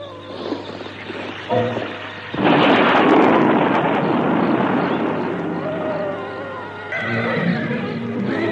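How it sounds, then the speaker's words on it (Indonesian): A horse whinnies loudly over a dense, rumbling roar of dramatic noise, with a sudden heavy surge partway through, close and intense. "Kereta kuda Mak Rompang sudah semakin rendah"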